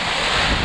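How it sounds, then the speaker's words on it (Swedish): Brief rush of wind and wave noise, loud and broadband, like surf churning around a sailboat on the Ionian Sea in 2-metre waves, with wind buffeting the microphone. "Och vågorna är 2 meter emellanåt."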